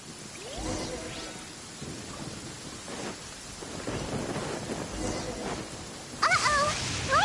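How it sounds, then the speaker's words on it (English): A thunderstorm in the game Genshin Impact, with rumbling thunder rolls and steady rain over several seconds, plus a brighter burst of sound near the end; no one talks. "Lightning storm!"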